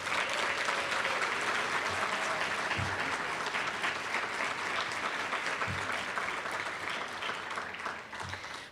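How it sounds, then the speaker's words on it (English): Sustained audience applause at a university leadership awards ceremony honoring student recipients, a dense even wash of clapping with a few low thumps, holding steady for several seconds before tapering slightly at the end. "Let's give them all a big round of applause."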